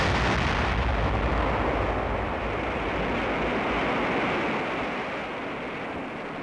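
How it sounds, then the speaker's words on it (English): A military rocket launching: a dense, steady roaring rush of exhaust noise fills the whole stretch, loud at first and slowly easing as it recedes, with no voices. "Rocket away."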